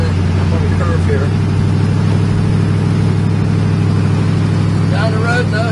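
A 1947 Ford Custom car cruising along a road, its steady low engine drone and road rumble continuous throughout, heard from inside the car with a faint voice now and then.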